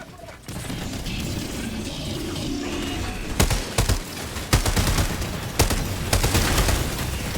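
Gunfire in the video game Helldivers 2: repeated loud sharp shots and bursts over a dense, constant battle din, with crashes and booms mixed in.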